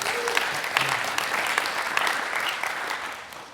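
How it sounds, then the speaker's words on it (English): An audience applauds students at a civic engagement recognition event, with dense steady clapping that swells and then gradually tapers off near the end. "So a round of applause to our students."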